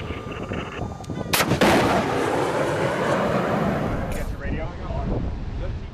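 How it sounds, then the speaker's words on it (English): A Stinger surface-to-air missile launcher firing live from a US Navy ship at sea sends out a sharp loud blast that becomes a sustained roaring rush, heard up close with wind buffeting the microphone and no one talking. "This generally features live fire exercises using missile launchers like the Stinger."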